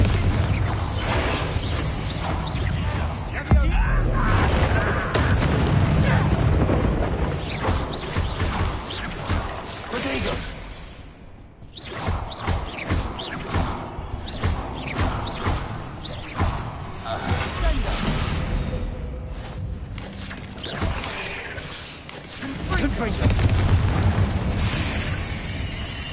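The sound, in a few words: Confringo blasting curse explosion in Hogwarts Legacy video game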